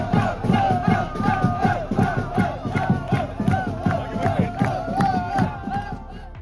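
Members of the Song Kloe Farm football fan club cheer together in Thailand: a loud, dense crowd chant carried on a steady pulsing beat, sustained without pause.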